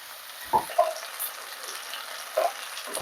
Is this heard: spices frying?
yes